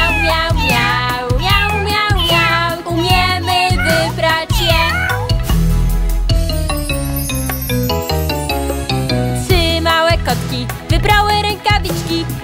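Cartoon kittens meow in sung, rhythmic bursts within a Polish children's song, loud and repeated over a bouncy musical backing.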